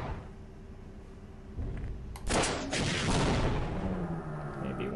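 Rocket launches and blasts in the Half-Life mod Interloper, a loud broadband burst erupting mid-clip over a steady low game rumble, followed by a sustained roaring wash that slowly fades.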